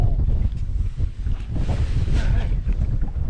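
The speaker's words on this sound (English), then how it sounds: "Ooh, that wind is blowing" Wind blows hard across Lake Seminole during crappie fishing from a boat, a loud, steady roar with gusty buffeting against the microphone that never lets up.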